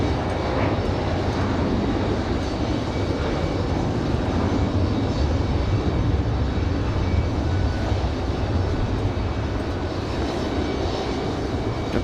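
JetBlue 2283, a jet airliner, arrives at Raleigh-Durham with a continuous, even engine roar and broad rushing noise that stays steady and fairly loud from start to end.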